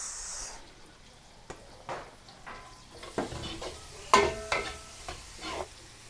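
Onions sautéing in a pan for a Filipino dish, with a soft continuous sizzle and several short stirring scrapes and clatters spread through the clip, fairly quiet overall.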